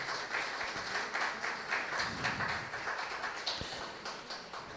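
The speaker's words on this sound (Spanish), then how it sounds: "Vamos a darle un fuerte aplauso a Greta." Scattered clapping from an audience at a missionary congress, honoring a woman named Greta; irregular claps over a steady room murmur, fairly faint throughout.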